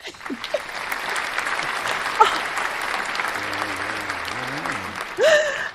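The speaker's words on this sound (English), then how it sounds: "Round of applause, please." A crowd breaks into a loud, sustained round of applause, dense clapping with a few whoops and a voice rising briefly near the end.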